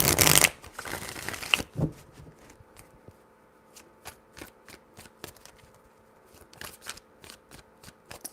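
Tarot cards being shuffled by hand, a loud dense riffle in the first seconds, then a run of sharp card snaps and taps spaced irregularly through a quiet room.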